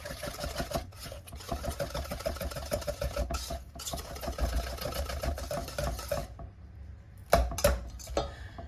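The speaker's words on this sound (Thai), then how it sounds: "แล้วก็ตีอีกครั้งนะคะให้ส่วนผสมทั้งหมดเข้ากันดีค่ะ" A hand whisk beats sweetened condensed milk into cream cheese in a bowl for a no-bake banana cheese pie, making fast, steady rhythmic clicking and scraping that stops briefly before a few final clanks.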